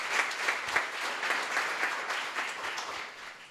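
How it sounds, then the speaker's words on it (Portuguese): A congregation applauds during a Sunday evening church service, a full, continuous roll of many hands clapping at moderate loudness, with no speech over it. "Você pode aplaudir ao Senhor"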